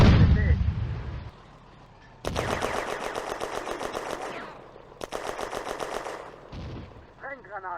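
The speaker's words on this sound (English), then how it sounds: "Once again, Soviet mortars fall harmlessly onto the former German position." Soviet mortar fire in the WWII game Firefight at a railway junction: a heavy opening blast, then long, loud stretches of rapid, rattling gunfire separated by a short lull, with a voice briefly heard at the end.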